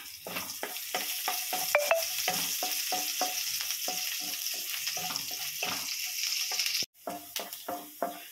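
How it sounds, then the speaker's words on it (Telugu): Finely chopped ginger and garlic sizzle in hot oil in a home kitchen, a soft crackle broken by repeated scraping strokes of a stirring spoon, with a brief knock near the end. "జింజర్ గార్లిక్ ఫ్రై అయిపోయింది."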